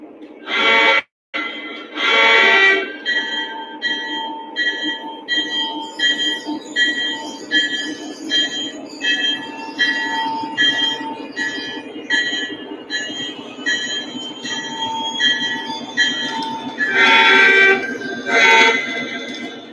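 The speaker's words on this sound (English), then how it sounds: "All right, you guys ready to see some more trains run? Let's run some more trains." Model trains running with a rhythmic chugging and repeated high electronic tones and whistles, loud and close, continuing steadily with brief bursts of sound.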